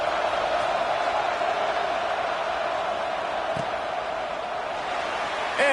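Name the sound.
stadium crowd in video game NCAA 26 football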